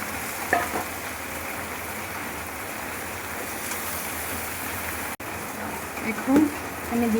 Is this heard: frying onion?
yes